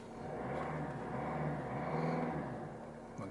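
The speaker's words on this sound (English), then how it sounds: "Let's just give it a quick rev for you." A 2016 Mercedes-Benz GLA 220d AMG Line 4Matic with its diesel engine and 7G-Tronic automatic, given a brief rev that swells and settles over a steady idle, heard fairly quietly and alone.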